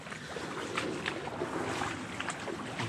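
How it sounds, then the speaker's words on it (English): Welly boots wade slowly through river floodwater, giving soft repeated splashes and swishes over a steady rush of flowing water and light wind, close to the microphone with no talk. "Got to walk quite slowly because it splashes everywhere."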